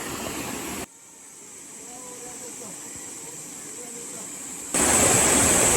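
Steady broadband rush of a waterfall in Daecheong valley stream, loud and continuous, with a brief muffled dip before the roar returns fully.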